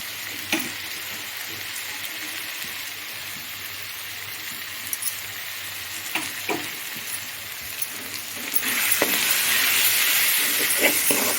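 Steady frying sizzle with occasional utensil scrapes as rice with turmeric and salt is stirred in a pan for mango rice, growing louder and hissier near the end.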